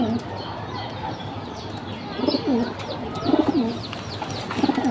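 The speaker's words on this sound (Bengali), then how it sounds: "একটা বাবরা কবুতর" Domestic pigeons, one a Babra-type bird with a black neck, coo softly in repeated low rounded calls, a few close bursts over a steady background hum.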